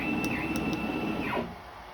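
Motors on a homemade CNC router run with a steady whining tone that glides down in pitch before the machine stops, leaving quiet hum.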